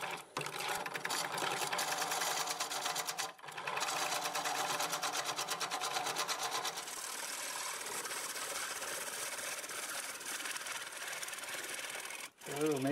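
A steady whirring grinder hums close as a dull wood turning tool is sharpened for work on olive wood, a continuous buzzing drone lasting nearly the whole stretch with a brief dip partway through.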